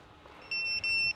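Plugged-in FPV drone gear giving off short, high electronic beeps: one steady tone that swells twice in a row, with faint background hiss and no voices.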